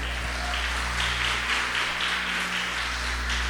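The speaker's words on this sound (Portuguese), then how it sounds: "pode aplaudir Jesus na vida dele" A church congregation claps in soft, uneven bursts over a steady low hum, the applause fairly faint and spread out across the room.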